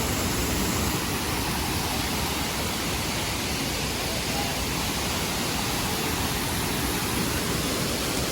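Neer waterfall, heard from close beside the water, roars as a dense, unbroken wash of rushing noise that stays loud and steady throughout, with no other sounds standing out.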